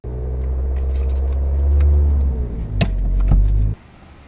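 A small car of about 1000 cc accelerates on an uphill start with the handbrake released, its engine giving a loud, close, swelling rumble with a couple of sharp clicks before cutting off abruptly.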